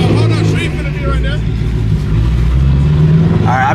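A car engine idles with a low, rumbling throb at a street video shoot for a tuner crew, close and loud; someone talks over it throughout.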